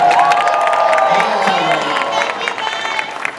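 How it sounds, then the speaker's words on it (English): A convention crowd at ComiKazi 2015 cheers and applauds the All That reunion cast: loud whoops and shouts ride over steady clapping from a large audience, close and energetic throughout. "We got to give these guys a big round of applause for being here."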